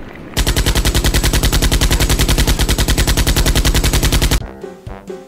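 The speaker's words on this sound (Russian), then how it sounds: "И в воздух стреляет." Automatic gunfire shot into the air, a loud, close, rapid burst lasting about four seconds before cutting off into scattered echoing noise.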